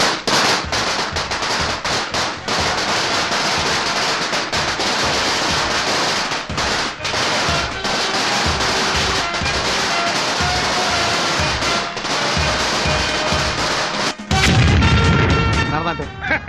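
A string of firecrackers bursts in a dense, continuous rattle of sharp pops lasting over a dozen seconds, ending in heavier, deeper booms.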